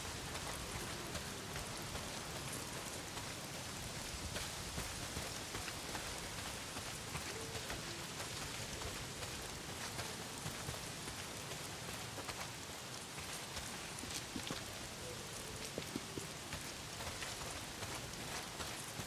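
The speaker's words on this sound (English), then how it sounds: "Well, not if it's pissing down rain." Heavy rain pours down outdoors in the open-world zombie game Days Gone, a dense steady hiss of drops hitting surfaces that stays unbroken and even for the whole stretch, with no voices.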